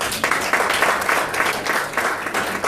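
A round of applause from an event audience, dense and lively with swelling bursts of clapping across the whole stretch.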